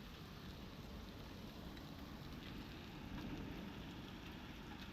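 Heavy rain with hail lashes down during an evening storm in Italy, a dense, unbroken roar of drops and pellets across the whole stretch, with no talking.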